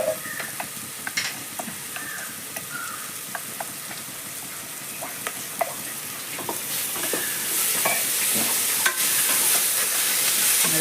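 Onions and garlic paste fry in a pan, a constant close hiss of oil broken by repeated spatula scrapes and clicks against the metal, and the sizzle grows louder and denser toward the end, with no speech.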